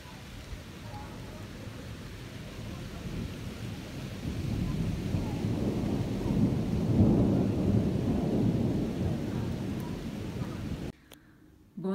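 Thunderstorm after heavy weather near Lugano, with low rolling thunder building and swelling over steady rain and wind noise, loud and sustained, then cutting off abruptly near the end.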